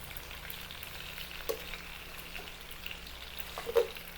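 Chicken wings sautéing with garlic and onion in a pan, a quiet, even sizzle close by, punctuated by a few light utensil taps and stirring knocks.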